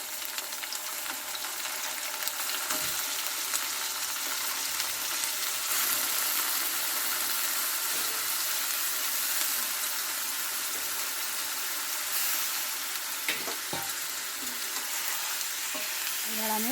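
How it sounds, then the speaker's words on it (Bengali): Chicken gizzard frying with onions in oil, a dense continuous sizzle with constant spatula stirring and scraping that stays loud and close throughout, with occasional clunks from the pan. "এবার আমি তেলের মধ্যে হালকা নেড়ে চেড়ে ভাজা ভাজা মতো করে নেব।"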